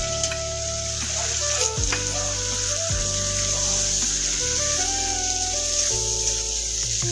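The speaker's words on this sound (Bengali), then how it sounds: "এই টমেটো আর পেঁয়াজের পেস্টটাকে এখন আমি কষিয়ে নিব মিনিমাম 5 মিনিটের মতন" Onion and tomato paste sizzles steadily in a hot pan, a continuous close frying hiss with occasional stirring scrapes, while a low tonal drone hums underneath.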